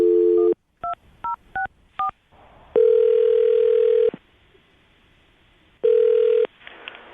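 A telephone line gives a short tone, then a quick run of four dialing beeps, followed by two long ringback tones with a pause between them, clear and close with no talking.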